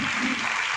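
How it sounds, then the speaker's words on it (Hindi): Loud, dense applause from a crowd at a Moradabad police event, a steady wash of many hands clapping together without pause, with a voice faintly present under it. "अब ये नवाचार मुरादाबाद के लिए जोरदार तालियां"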